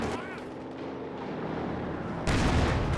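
A ZiS anti-tank gun fires in the Company of Heroes 2 battle game, one sharp heavy blast near the end over a busy backdrop of in-game combat noise.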